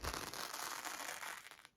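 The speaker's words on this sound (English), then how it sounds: "That's the sound of the glue from the fusible just getting peeled off of there." Fusible interfacing peeled off fabric gives a close, crackly ripping noise as the glue lets go, lasting under two seconds and then stopping abruptly.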